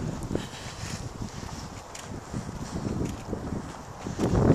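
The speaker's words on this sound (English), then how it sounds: "Man, it's windy." Gusty wind buffets a microphone outdoors in a residential neighborhood, a steady low rumble with brief stronger gusts and a louder surge near the end; no one speaks.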